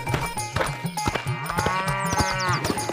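A buffalo moos in a series of low, drawn-out, wavering calls that rise and fall, fairly close and loud, with no talking.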